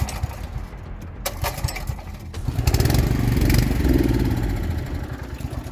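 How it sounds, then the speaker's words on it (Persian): Portable petrol generator in a cave, its engine sputtering unevenly, briefly swelling to a rough running drone, then fading as it cuts out, close and loud. "چرا خاموش میشه موتور برقم؟"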